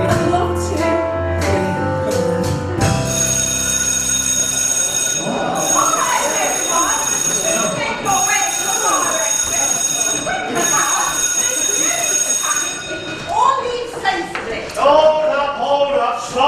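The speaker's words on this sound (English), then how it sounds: "It's a false alarm." A loud, continuous alarm tone blares throughout a false alarm at a reunion gathering, with people talking and shouting over it.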